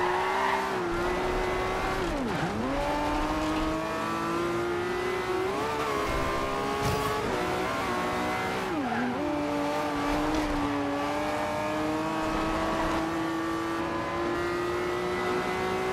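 Racing cars including a McLaren tear around a track in Forza Horizon 2, one engine droning loud and close as it shifts up and down through gears, with tires squealing and other cars' engines passing alongside.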